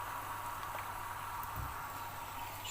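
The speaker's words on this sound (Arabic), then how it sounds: "معانا ميه مغليه" Water in a pot for Egyptian koshari pasta bubbling at a gentle, continuous simmer, a steady close hiss and burble with no voices.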